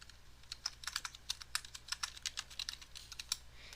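Fingers tap a computer keyboard in an irregular run of quick, crisp keystrokes, close and fairly quiet, with no voices over them.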